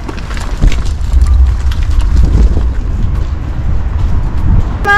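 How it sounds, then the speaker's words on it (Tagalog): Cold, blustery wind buffets the microphone outdoors in Finland, a loud continuous rumble with gusts, and a brief high sound near the end. "yung weather natin is ayan, mahangin na naman, ang lamig na naman"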